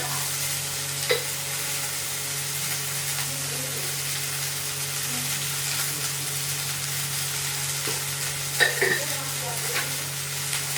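Chopped beans and green chillies frying with spluttered mustard seeds in a pan: a steady, close sizzling hiss runs throughout, with a few sharp utensil scrapes and knocks as the mixture is stirred.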